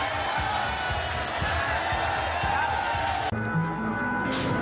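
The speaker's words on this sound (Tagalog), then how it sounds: "look at the crowd here in Cebu" A large crowd at a boxing match in Cebu roars and cheers in a dense, sustained wall of noise. It swells slightly before a brief cut.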